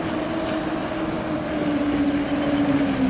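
A boat driven by a heavy outboard motor runs on the Katun mountain river, a steady droning engine tone sustained throughout over broadband water and wind noise, with no voices.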